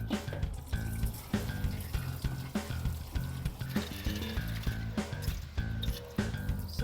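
Fresh water runs and splashes steadily into a rusty motorcycle fuel tank from a cafe racer rebuild, a continuous pouring and gurgling with small rhythmic knocks, close and moderately loud.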